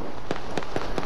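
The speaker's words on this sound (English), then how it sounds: "Like, these pistols just crack" Four sharp pistol cracks from a video game, evenly spaced about a quarter second apart, loud and close over a steady background hum.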